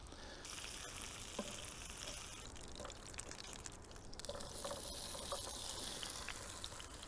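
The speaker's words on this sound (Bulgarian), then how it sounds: "Слагам и картофите. Запържвам ги и тях с масло." Potatoes fry in butter in a pan, giving a steady, close sizzle with faint crackles and spits that carry on without pause. No one speaks.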